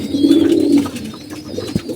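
Pigeons coo close by, one deep rolling coo swelling and fading, followed by softer murmuring and a small thump.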